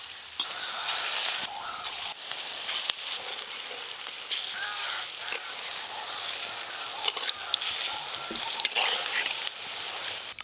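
Cashews, melon seeds and poppy seeds fry in hot oil in a home kitchen, giving a steady close sizzle with scattered pops and crackles, and occasional faint stirring over it.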